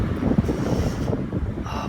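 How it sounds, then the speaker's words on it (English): Strong wind buffets the microphone at a coastal lookout, a steady loud roar with rumbling gusts, alone with no voices. "Oh, why is it so windy?"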